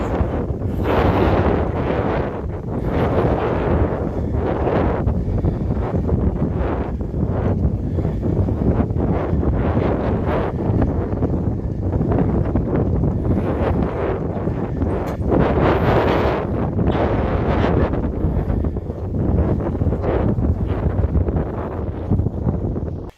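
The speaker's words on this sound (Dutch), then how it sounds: "Serieus veel wind." Strong, gusty wind roars and buffets the microphone continuously on a road near Kloosterzande, Netherlands, rising and falling in loud surges with no voices.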